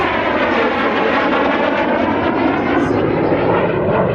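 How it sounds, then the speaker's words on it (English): An Impala jet trainer flies low overhead with a loud, steady, broadband engine roar that fills the whole stretch without letup. "Just watching Mike Vanguards here in the Impala"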